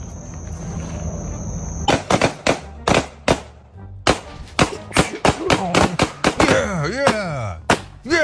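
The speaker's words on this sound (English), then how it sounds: "a woman shooting beer cans" Gunshots from a woman firing at beer cans outdoors, a rapid series of sharp, loud cracks in an irregular rhythm, some close together, following a few seconds of quieter background.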